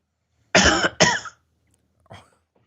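Two sharp coughs in quick succession, close and loud, followed after a pause by a fainter third cough.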